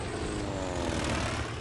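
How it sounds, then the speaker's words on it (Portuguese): Squadrons of American torpedo bombers and bombers from the Pacific War fly overhead, a steady propeller-engine drone holding at constant loudness throughout with no voices. "os americanos enviaram vários esquadrões de aviões torpedeiros e bombardeiros"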